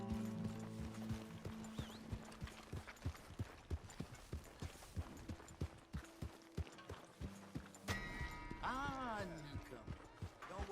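Rhythmic hoofbeats clip-clop at a steady trot in Red Dead Redemption 2, over tonal music, ending with a rising-and-falling whinny-like sound.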